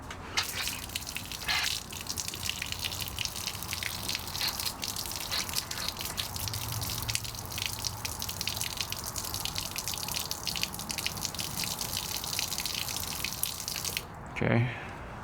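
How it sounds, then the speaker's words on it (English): Water purging from a pressure washer during a car wash: a steady loud gushing spray runs continuously, with a brief pause and a thump near the end. "Make sure all the water is purged out of the pressure washer."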